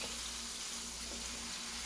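Steak frying in a pan at fairly high heat with a little juice pooling underneath; a soft, continuous hiss and sizzle, even and close, with no talking.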